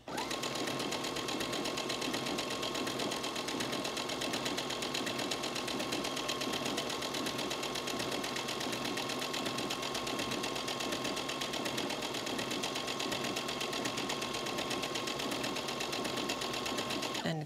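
A sewing machine stitching a table runner runs in a continuous, even mechanical whir with rapid needle ticking, steady and close for the whole stretch without pause.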